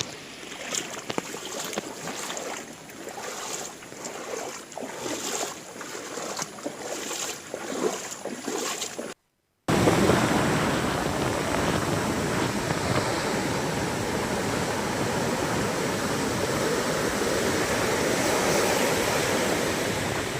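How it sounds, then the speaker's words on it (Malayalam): Rough sea roaring steadily, with heavy wind and crashing waves filling the whole stretch after a brief cut in the middle. "തീരദേശത്ത് കടലിൽ ശക്തമായ കാറ്റ് വീശുകയാണ്."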